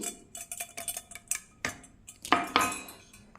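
A metal spoon clinks and scrapes against a bowl while sweet curd is mixed in for Mangalore banana buns, a series of irregular sharp taps up close, loudest near the end, with no talk.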